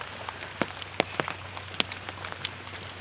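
Steady rainfall patters on surfaces, with scattered sharper drips and drops standing out now and then against a soft, constant hiss and a low hum.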